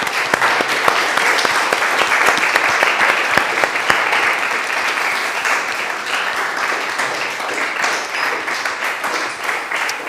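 An audience at a public talk gives sustained applause, many hands clapping in a dense, even roar with a few sharper near claps, slowly thinning toward the end.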